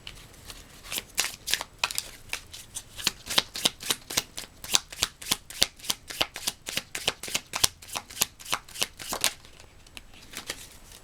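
Tarot cards are shuffled by hand, a close, crisp riffle of rapid flapping bursts repeating in an even rhythm for about ten seconds with no talking.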